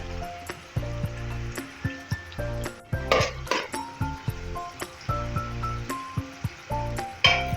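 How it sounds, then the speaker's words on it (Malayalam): Onion and ginger are stirred in a pan with a steady run of crisp metallic clinks and scrapes from a spoon against the pan, roughly one every half second, over faint tonal background music and only light sizzling. "ഒരു ടീസ്പൂൺ ഇഞ്ചി ചെറുതായി മുറിച്ചത് ചേർത്ത് ഇളക്കി കൊടുക്കാം."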